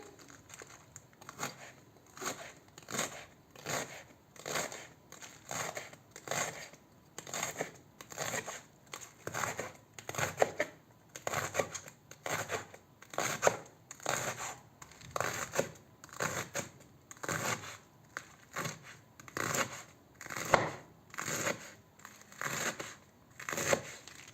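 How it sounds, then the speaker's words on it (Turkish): A knife chops steadily through lettuce and green onion on a board, brisk rhythmic crunchy cuts repeating closely with no talking. "Şimdi doğramaya başlayacağım."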